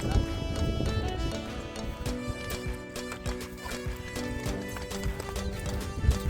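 Hooves clip-clop in a quick, regular rhythm, close and clear, with a tonal hum and a few faint voices in the background.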